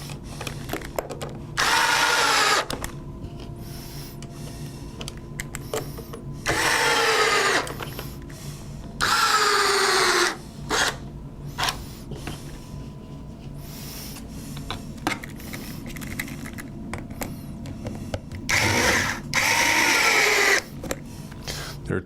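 Power drill driving screws into a front gear platform, heard in several separate bursts of a few seconds each, with quieter handling noise and background hum between them.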